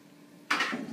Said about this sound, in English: We're going to toss the Brussels sprouts in here